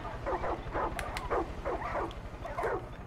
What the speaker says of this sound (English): Dogs. There are dogs in here.